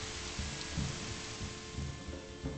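Steady rain in the medieval strategy game Manor Lords, a soft continuous hiss of drops over a forest setting, with no voices and faint low thuds underneath.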